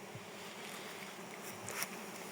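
A faint, steady buzz of bees flying nearby, with a soft outdoor hiss in the background.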